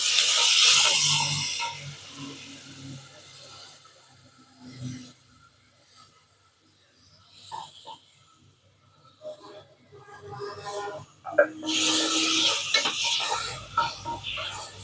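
Ground mint and coriander paste hits hot oil and garlic in a pot for peas rice, giving a bright sizzling burst at the start and again near the end, with quieter stirring and scraping in between.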